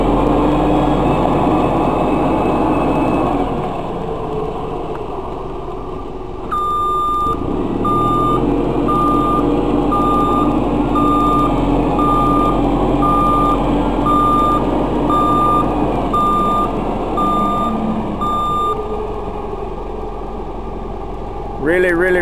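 A 2007 JLG G9-43A telehandler idles with a steady diesel engine drone while crab steering sideways, and a loud, evenly spaced reversing beep sounds repeatedly for most of the stretch.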